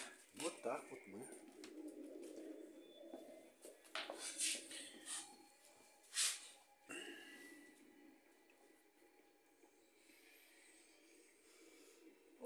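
A pigeon with a serious wing injury that leaves it unable to fly coos softly and faintly at close range, low murmuring calls mixed with rustling as a person speaks nearby.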